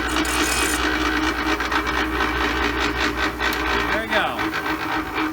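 An angle grinder cuts with a replacement diamond blade segment on a Greenline Agate Eater blade, giving a steady, loud, close rasping grind that holds throughout and shifts slightly in pitch near the end.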